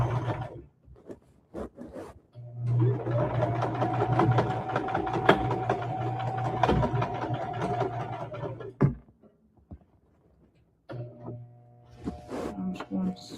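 A sewing machine runs at a slow, even pace while stitching a rag quilt, giving a steady humming drone for several seconds with scratchy handling noises and brief pauses around it.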